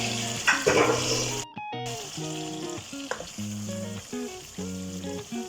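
Ginger garlic paste sizzles steadily in a pan with softened tomatoes, a continuous close frying hiss with a few brief clinks, over a tonal background hum.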